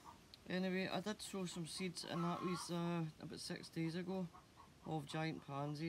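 A hen clucks repeatedly in a garden, its squawks overlapping and continuing under someone talking close by.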